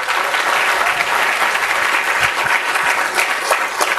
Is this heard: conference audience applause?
yes